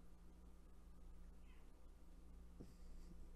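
A cat meowing indoors, a single faint mew partway through over a quiet hum, with no talking.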